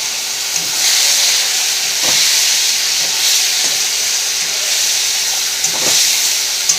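Ginger, cumin and chili paste sautés in oil with a steady bright sizzle and hiss, a few faint clinks of stirring underneath, close and continuous.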